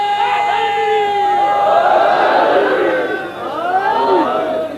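A large crowd at a 1988 Muharram majlis shouts a religious slogan in unison, a loud, sustained wall of massed voices rising and falling together for several seconds with no pause.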